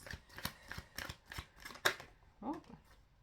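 Tarot cards being shuffled in a series of quick, close riffles and snaps, fairly quiet, with a brief murmur of voice near the end.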